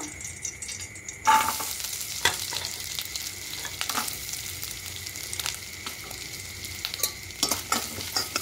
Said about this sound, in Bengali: এবার ঘিয়ের মধ্যে নারকেল কুচিটা দিয়ে দেব।